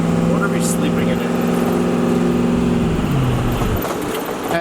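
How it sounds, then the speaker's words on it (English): An old bus engine idles rough and uneven after starting, a loud nearby mechanical drone with wavering pitch that dips and sags toward the end, with brief rattles over it. "We're about to see if the bus is gonna start"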